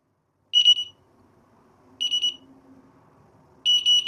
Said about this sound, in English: if you should open a window or a door and forget to close it, it will just keep beeping and remind you